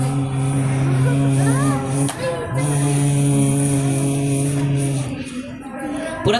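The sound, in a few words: voice imitating buzzing flies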